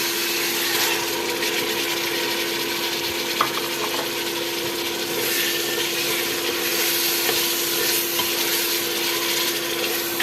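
Chicken frying in spice masala gives a steady sizzle throughout, with a constant hum under it and occasional clicks and scrapes of stirring.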